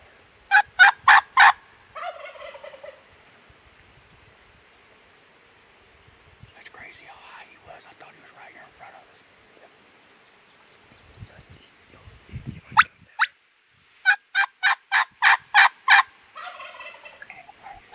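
A wild turkey gobbler gobbles repeatedly outdoors during a hunt, sharp rattling bursts in two clusters at the start and end of the clip, with quiet rustling and soft whispered talk in between.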